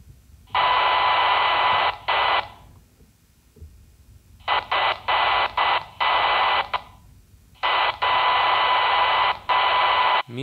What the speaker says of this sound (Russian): Смотрим, на каком сигнале шумоподавитель откроется от сильной помехи на соседнем канале.